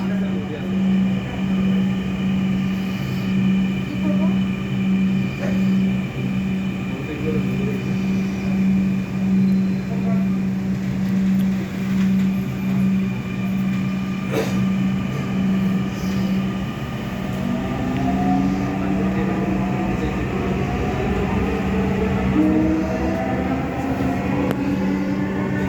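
Dhaka metro rail train at an Uttara station, a steady low rumble and hum with rising whine as it moves, while bilingual onboard announcements play over it throughout.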